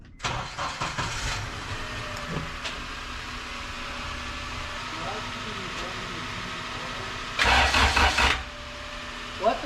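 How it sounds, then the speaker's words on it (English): Honda EF hatch with an all-motor engine cranking and starting, short bursts of starter noise early and a louder surge of engine sound near the end, with people talking in between. "Let me start my car."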